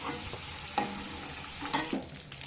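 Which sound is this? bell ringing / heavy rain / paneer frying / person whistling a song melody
paneer frying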